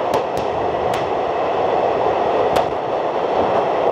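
Vistadome train running through a tunnel between Sangaldan and Srinagar, a steady loud rolling rumble with a few sharp clicks from the wheels on the rails, continuous throughout.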